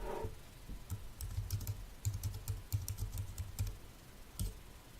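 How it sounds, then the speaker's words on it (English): Keys clatter on a computer keyboard in a steady burst of typing, close and fairly quiet, with short pauses between clusters of keystrokes and no voices. "So if we type in here,"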